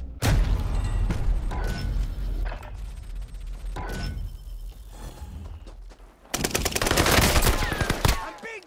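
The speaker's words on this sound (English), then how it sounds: "I'm being shot." Gunfire in the video game Call of Duty: Modern Warfare: scattered single shots and short bursts give way to a loud, sustained rapid-fire burst near the end.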